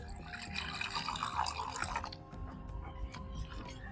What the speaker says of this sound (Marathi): आता एका भांड्यातनी काढून घेऊ आणि त्याच्यात पाणी टाकून घेऊ